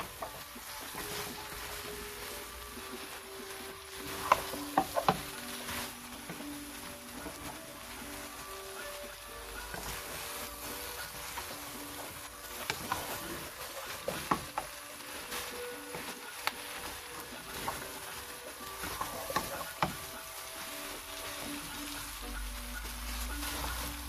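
Chepa shutki, a dried fish curry, is stirred in a pan over a medium flame, giving a steady sizzle broken by scraping stir strokes, loud and continuous throughout, with no talking.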